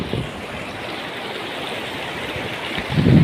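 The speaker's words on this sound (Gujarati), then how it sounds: "જોરદાર પાણી જઈ રહી છે" A flooded Shetrunji river rushes under a submerged bridge in a steady, loud, broadband roar of fast water. Low rumbling bursts, likely wind on the microphone, appear near the start and end.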